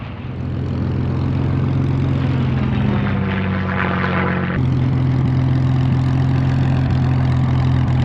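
A World War I propeller airplane engine drones loud and steady for the whole stretch, its deep hum shifting in pitch partway through with no voices over it.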